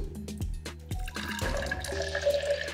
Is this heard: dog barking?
no